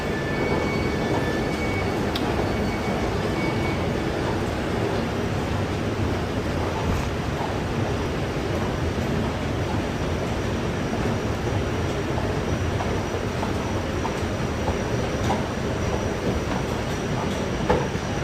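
A Glasgow Subway train sits in an underground station, giving a steady rumbling hum and rushing noise for a long stretch, with a few faint clicks and no talk.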